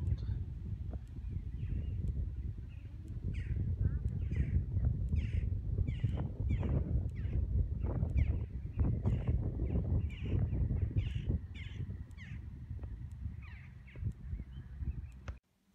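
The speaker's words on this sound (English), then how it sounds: "And then some squawking from some jackdaws." Jackdaws squawk in short, repeated chattering calls, moderately distant, over continuous outdoor wind and low rumbling noise throughout.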